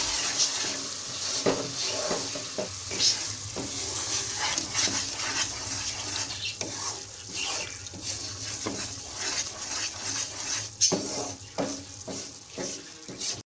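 Besan (gram flour) frying in a pan for halwa while being stirred, with steady sizzling and repeated scraping strokes of a spoon across the pan, close and fairly loud throughout.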